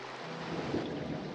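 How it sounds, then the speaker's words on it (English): Steady rain falls on a tin roof, a soft, even wash of patter with a low rumble underneath, faint and continuous across the short stretch, with no voices. "The rain came early,"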